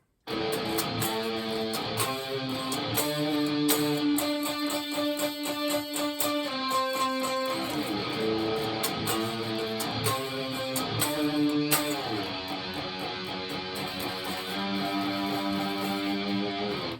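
Electric guitar plays the chorus of a song slowly, a steady run of picked chords and riff notes filling all seventeen seconds without any voice.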